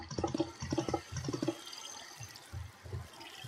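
Water is placed in the video game Minecraft, giving soft burbling, sloshing liquid splashes that settle into a faint trickle, quiet and close with no voice.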